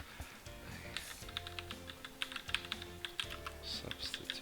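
Steady typing on a computer keyboard, with quick irregular clicks and taps running continuously at moderate volume and close by, and no voices.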